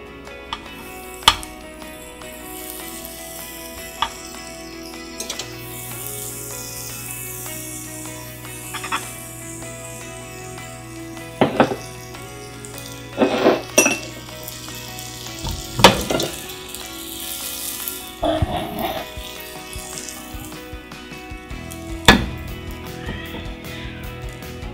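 Butter sizzles in a hot frying pan before pancake batter goes in, a soft, continuous frying hiss with a few scattered clinks and knocks of utensils against the pan, and no talking.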